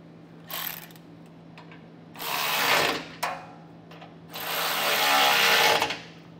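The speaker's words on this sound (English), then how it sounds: "thread those bolts back into place." A power tool drives bolts into a frame bracket on a 2022 Ford F-250 Super Duty, three whirring bursts, one short and two longer, separated by brief pauses over a low steady hum, with no speech.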